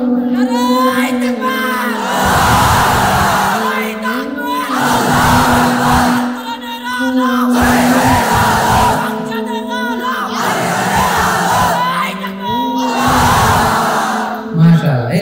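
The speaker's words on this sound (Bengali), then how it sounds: "তাকবীর পড়েন তো দেখি, আল্লাহর নামে পড়েন লিল্লাহি তাকবীর" Large crowd at a Bengali Islamic religious gathering chanting takbir, loud repeated group shouts in waves, separated by short pauses with a leader's voice between them.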